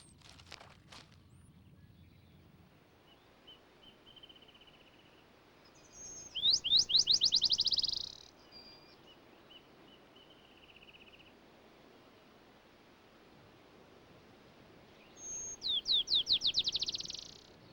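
Black-chinned sparrow chicks: two separate bursts of rapid, high, accelerating chirps, each lasting about two seconds. Near quiet lies between them, with faint outdoor background.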